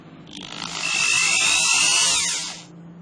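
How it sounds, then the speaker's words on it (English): A 300 watt electric drill running on a power inverter whirs up from a start, holds a steady, close whine for about two seconds, then spins down, with no talk. "I'm going to run my drill, which is a 300 watt drill on it."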